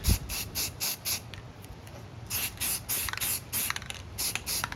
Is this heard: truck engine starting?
no